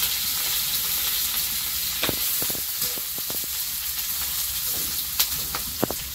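Whole cumin seeds and chopped onion fry in hot oil, giving a steady close sizzle and hiss with a few sharp pops and spits scattered through.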